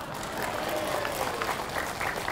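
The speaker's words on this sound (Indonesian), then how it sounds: "Jangan asal tepuk tangan aja." An audience breaks into applause, a steady wash of many hands clapping at moderate loudness, continuous and unbroken with no voices over it.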